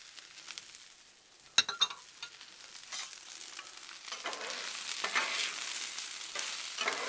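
Mushrooms, onions and peppers frying on a hot Blackstone griddle: a few sharp clatters as food lands, then a sizzle that builds into a loud, steady hiss up close.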